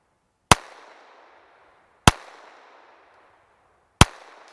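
Three sharp gunshots from a small Ruger LCP II .22LR pistol shooting at a 100-yard target, evenly spaced about one and a half seconds apart, each loud crack followed by a rolling outdoor echo, no talking.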